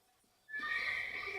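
A horse in the video game Red Dead Redemption lets out a single loud whinny that starts abruptly after a quiet moment and rings on to the end.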